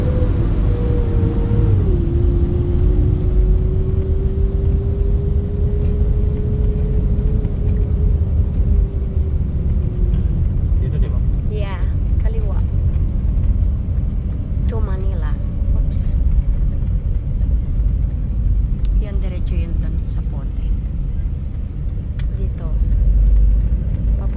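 Bus on a highway toward Cavitex heard from inside, a steady loud low rumble with a faint tonal whine drifting downward early on, while people talk over the constant road noise.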